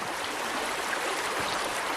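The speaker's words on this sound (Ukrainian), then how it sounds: "Така річечка тут тече, ліс." A small river flows steadily beside a forest campsite in the Carpathians, its broadband rushing and trickling water continuous and close throughout, with no voices.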